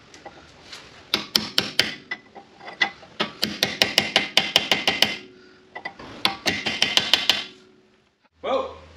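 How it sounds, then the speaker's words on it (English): A hammer drives the lip of the axle nut into the drive shaft of a Mazda CX7 all-wheel-drive, at the rear wheel bearing. Sharp metallic strikes come close and loud in quick bursts of several blows, with short pauses between the bursts. "The next thing we need to do is bash this little bit of the nut in so it locks onto the drive shaft."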